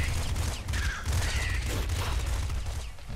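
Rapid pop rifle gunfire in the game Nuclear Throne, a dense, continuous barrage of shots and impacts filling the whole stretch, loud and unbroken, with no voices.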